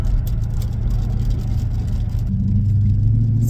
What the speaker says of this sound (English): You step on the gas, you go.